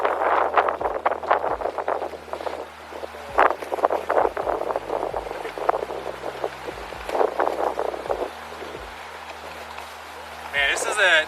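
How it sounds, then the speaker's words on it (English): A strong headwind blows across a disc golf course during a tournament round, buffeting the microphone with gusty rumble while someone talks over it. "Raging headwind."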